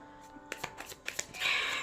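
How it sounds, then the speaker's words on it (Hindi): Tarot cards being shuffled by hand, a run of soft riffling flicks that builds into a brief, denser papery whoosh at the end, close and quiet with no talk. "So I am going to shuffle the cards."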